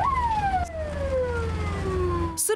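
An ambulance siren wails with a long descending tone, loud and close over engine rumble, then cuts to a new rising burst at the end, in a small town in Russia's Nizhny Novgorod region.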